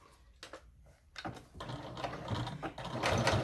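A sewing machine stitches a placemat, sewing an eighth of an inch from the edge. A steady mechanical whir builds after a short stop-start opening and keeps running close and fairly loud to the end.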